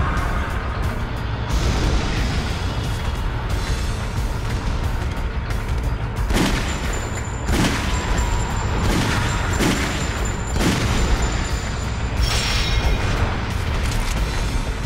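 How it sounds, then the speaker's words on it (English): Magnum pistol shots in Resident Evil: The Umbrella Chronicles fire as several loud, spaced booming blasts over a constant dense game backdrop of rumble and noise. "here's probably where I should be using the magnum"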